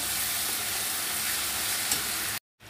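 Potato sautéing in a pan for a home-cooked meal, a dense, even sizzle heard up close that cuts out abruptly just before the end.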